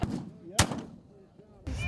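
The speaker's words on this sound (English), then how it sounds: "The guns once used to hunt buffalo now hunt targets in a very challenging Montana shooting competition." Buffalo rifles fire at a Montana long-range shooting match, two loud, close booming shots with a roaring echo trailing after the first, the second cut short at the end.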